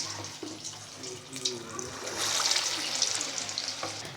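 Hot oil hisses and crackles in a pan as cheese chicken shami kababs go in, the sizzle swelling louder midway with faint kitchen clatter underneath.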